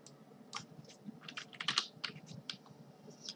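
Keys clatter on a computer keyboard, typing a short word in quick bursts of close, crisp clicks with brief pauses, alone and with no talk.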